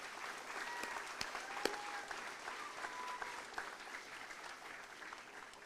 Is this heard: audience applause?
yes